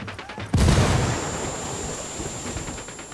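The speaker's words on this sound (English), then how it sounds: "Grenade, move!" A grenade explosion in the Ghost Recon Wildlands video game, a sudden loud boom that bursts in after a short lead-in, then a long rumbling roar and debris wash that slowly fades across the rest of the clip, with no talk.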